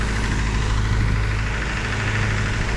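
A farm tractor idles nearby during corn harvest, a steady low rumbling drone with a slight knocking pulse, constant and unchanging with no voices.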